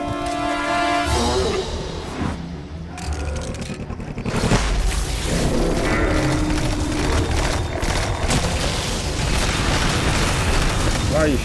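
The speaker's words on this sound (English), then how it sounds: "I think grenades hit." Grenade explosions in the Destiny 2 shooter game, loud booming blasts mixed with gunfire and game effects in a dense, continuous battle soundscape, with players talking over it.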